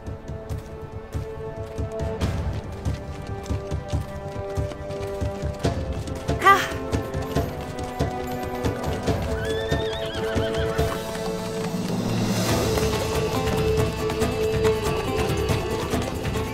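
Horses from a historical drama scene neigh and whinny over galloping hooves, with a sharp whinny near the middle and another later, all set against a dense orchestral music score.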